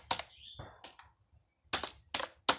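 Close, quiet clicks of computer keyboard keys typed in short irregular bursts with pauses between, including a single firmer keystroke among them.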